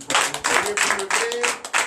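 A church congregation at a night deliverance and prophecy service applauds loudly, dense clapping in rhythmic bursts with a voice faintly underneath.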